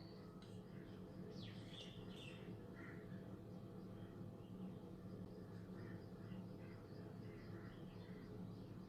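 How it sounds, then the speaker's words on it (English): Small bird chirping in the open, a few short bright calls near the start and scattered faint tweets after, over a steady low background hum. "Mother bird came again."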